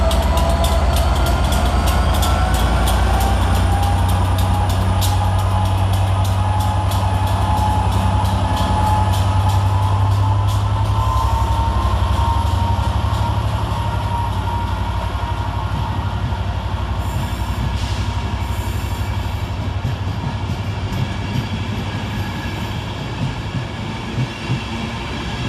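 Class 67 diesel locomotive 67008 hauls a Transport for Wales passenger train away from a station, its engine a loud, heavy rumble throughout with metallic wheel squeal and clatter, slowly easing as it departs.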